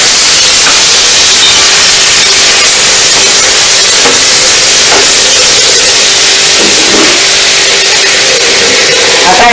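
Peeled mangoes sautéed in a pan with oil, a loud, harsh, continuous hiss close up with a few faint clanks over it.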